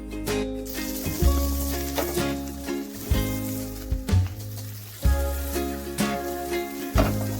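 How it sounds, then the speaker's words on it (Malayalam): Chopped jackfruit sautéing in butter in a pan, a close, continuous sizzle swelling in stir-driven pulses about once a second, with soft scraping from the spoon. "ഇനി നമുക്ക് ചക്ക സോട്ട് ചെയ്യാൻ 1 ടേബിൾ സ്പൂൺ ബട്ടർ ഇടാം."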